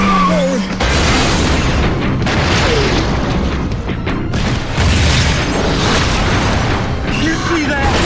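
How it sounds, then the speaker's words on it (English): A loud, sustained rumbling explosion in a Budapest street scene fills the whole clip, dense and roaring, with faint voices buried beneath it. "That was a big explosion."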